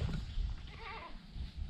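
Hoarse goat bleating from separation anxiety, a short raspy wavering call heard once over a rough background.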